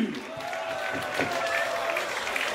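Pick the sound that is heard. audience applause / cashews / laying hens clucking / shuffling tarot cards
audience applause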